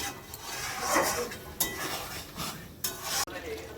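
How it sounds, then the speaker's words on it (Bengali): A spoon stirs curry with fresh coriander leaves in a pan on the stove, giving steady scraping and soft sizzling with a few sharper clinks of metal against the pan. "কতগুলো ধনেপাতা দিয়ে একদম নেড়ে চেড়ে গ্যাসটা কমিয়ে এবার ঢাকা দিয়ে দিব"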